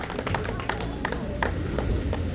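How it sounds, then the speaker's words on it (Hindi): Crowd applause welcoming a prize winner at a pigeon-flying prize distribution ceremony in Raebareli, steady dense clapping over a loud, noisy outdoor background without a break. "जोरदार तालियों से इनका स्वागत करिए"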